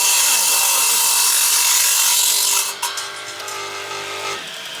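An Elu TGS 172 combination saw set to mitre slices through wood with a steady loud rasping whine, then the blade breaks free and winds down to a fading hum over the final two seconds.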